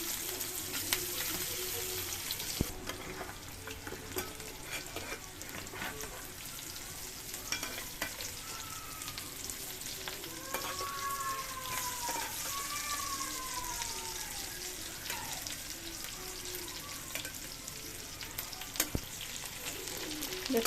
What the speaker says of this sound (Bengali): কড়াইতে তেল দিয়ে রেখেছি, এখন দিয়ে দিব করলাগুলো।